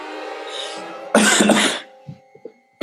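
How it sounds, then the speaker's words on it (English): A harsh, loud cough bursts out close by, followed by a few small throat sounds, with a faint hum underneath. "I got a cough"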